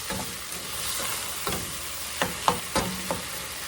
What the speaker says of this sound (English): we're going to get this stirred around